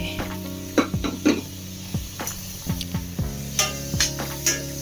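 Chopped tomatoes are sautéed in a pan for chicken peratal, with close, regular scraping strokes of a spoon against the pan over a continuous low sizzle.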